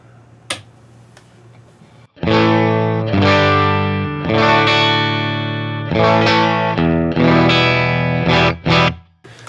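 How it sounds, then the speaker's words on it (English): Electric guitar through a Suhr Bella amplifier switched to 22 watt mode, playing several loud driven chords and short riffs in bursts after a quiet lead-in with a few light taps, ending on two quick stabs. "I'm going to go from 44 watts to 22 watts here."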